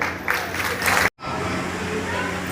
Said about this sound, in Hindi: इसलिए सब लोग एक बार इनको भी बधाई के रूप में ताली बजाएंगे